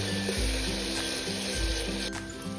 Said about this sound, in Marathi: आता आपल्याला पूर्ण कच्चेपणा निघून जाईपर्यंत हा कांदा टोमॅटो तेलावरती परतून घेऊयात।